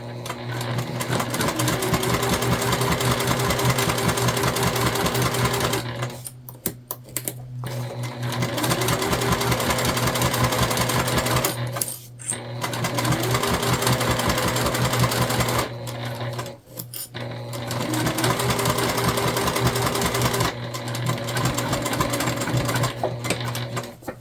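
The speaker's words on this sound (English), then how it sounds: "And now we're just going to baste these together. It'll make it easier for us to sew these in later." A sewing machine basts multi-panel tote bag pieces together in long, steady stitching runs, pausing briefly three times between bursts, loud and close with no talking.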